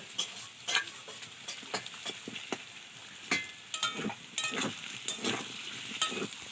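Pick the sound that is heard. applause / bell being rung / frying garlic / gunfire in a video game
frying garlic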